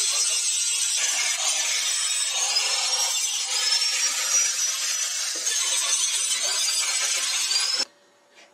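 A forged steel axle is cut and ground down on a wheelbase-alteration car build, giving a loud, continuous high-pitched grinding rasp that runs without a break for about eight seconds and then stops abruptly.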